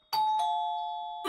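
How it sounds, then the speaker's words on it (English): A doorbell in an animated horror story sounds a clear two-tone ding-dong chime, loud and close, ringing out with a long sustained tone before a second press begins. "And then his doorbell rings."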